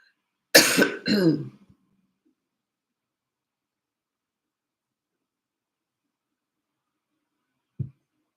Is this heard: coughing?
yes